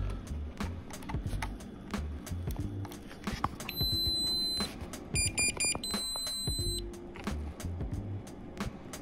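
OrqaFPV ONE goggles in bootloader mode sound electronic beeps in a short patterned sequence of high tones, mixed with clicks and handling noise close by.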